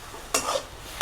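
Drumstick (moringa) leaves frying and being stirred in a pan until dry and crisp, a short burst of sizzling, scraping noise that rises suddenly, holds for a moment, then fades.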